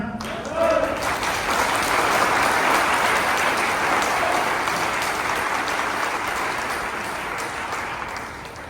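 Applause from an audience during an AWPL marketing plan call, a dense steady clatter of many hands lasting several seconds, loud and close, with a voice speaking over it.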